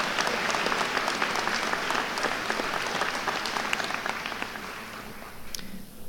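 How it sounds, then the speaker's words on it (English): Audience applauding graduates at the Terra State Community College 2016 commencement ceremony: dense, steady clapping from a large crowd in a hall, sustained at an even level before thinning slightly near the end. "Let's please applaud these graduates."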